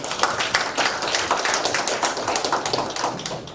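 Steady applause from a church forum audience, many hands clapping densely and continuously at an even level throughout.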